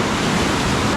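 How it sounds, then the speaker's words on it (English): Ocean waves break on a beach at Manuel Antonio Park, Costa Rica, after sunset, a loud, steady rushing wash of surf filling the whole moment. "the entertainment is only in the form of George getting taken out by waves."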